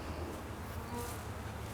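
Honey bees buzz around an open hive frame that is capping honey, a close, dense, continuous hum filling the short moment with no voices.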